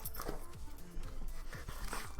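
Excited dog panting and whimpering close by, with quick rhythmic breaths and small vocal noises, a person's voice murmuring in the background.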